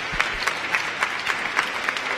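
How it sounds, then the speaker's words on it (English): A church congregation at a Baptist worship service claps in a brief round of applause, a dense and fairly loud patter of hands. "So please just give them another round of applause."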